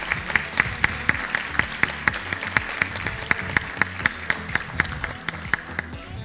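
Clapping from the crowd at a kindergarten graduation ceremony greets a child, steady applause over rhythmic music with a regular beat throughout.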